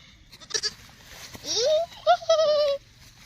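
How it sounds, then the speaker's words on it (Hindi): Goats bleat close by on a village farm among green fields, with a few short calls and then a longer, rising, wavering bleat, mixed with brief voices and movement in the background. "देखिए बकरियां कितनी खूबसूरत और कितनी प्यारी होती हैं।"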